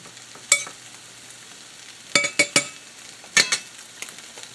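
Grated Parmesan and onion powder are mixed into tilapia and broccoli in a pan, with sharp scraping and clinking strokes of a utensil in scattered bursts over a soft, faint sizzle.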